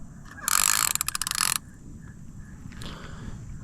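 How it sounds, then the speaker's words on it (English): A fishing reel's clicker ratchets in a fast, loud burst of rapid clicks for about a second, then falls quiet, with a single faint click afterward, outdoors at night. "Okay, got my clicker set, so when it takes off, we got it."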